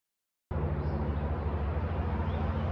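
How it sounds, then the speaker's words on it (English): Steady traffic roars from a nearby road beside the Appalachian Trail, a continuous dense rush of passing cars and a truck with low rumble, constant and fairly loud with no talk. "Well, you can hear all the cars in the background."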